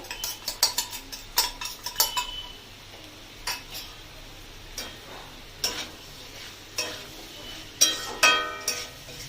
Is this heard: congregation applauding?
no